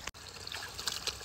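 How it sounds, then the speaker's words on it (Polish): A small forest stream flows with a soft, close trickling and gurgling of water in a brief continuous stretch, broken by a split-second gap near the start. "O, jaki ładny potok."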